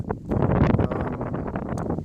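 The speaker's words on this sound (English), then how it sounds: "Pretty windy today, so I hope you can hear me quite well." Gusty wind sweeps across open farm fields, buffeting the microphone in rough, uneven bursts that fill the whole moment with no voice.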